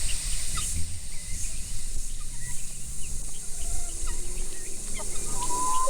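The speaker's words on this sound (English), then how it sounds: "Hello chickens, what you doing?" Chickens on a tropical homestead cluck and call softly amid constant cicada hiss, with scattered bird chirps and rustling close by.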